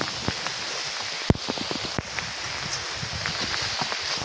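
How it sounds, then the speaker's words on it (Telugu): Rain patters on leaves and surfaces in Atei Reserve Forest, a dense, steady wash of close drips with a few sharp, louder drops standing out. No one speaks. "వాన పడుతుంది"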